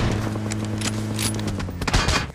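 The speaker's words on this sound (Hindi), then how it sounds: "स्कूल से कुछ बंदे हम पे शॉट्स लेने लगते हैं" Enemy gunfire from players shooting out of a school building in a battle royale video game: a loud close burst of rapid shots, with a few sharper cracks near the end.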